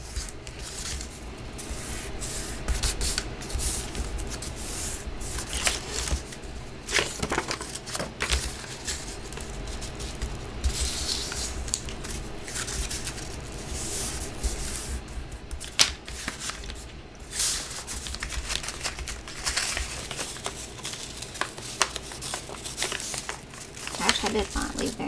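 Kraft paper is folded by hand into a simple bag for a junk journal, with a steady run of scraping, rubbing creases and papery crinkles.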